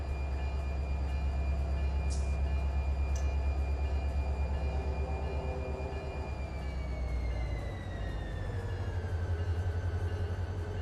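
Simulated diesel locomotive from the Run 8 Train Sim game, a steady loud engine drone and rumble with sustained tonal whine that shifts pitch partway through, plus a couple of brief high clicks, no talk.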